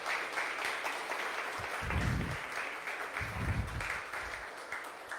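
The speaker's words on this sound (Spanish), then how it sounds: "Dale una ofrenda de palmas a Jesús" A church congregation applauding during a sermon, a steady wash of clapping at moderate level with a few heavier low thumps mixed in, no voices.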